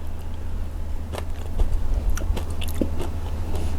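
Close crunchy chewing and biting on a salty snack coated in coarse salt grains, rang kra bok from Rayong, with repeated crisp bites and mastication over a steady low hum.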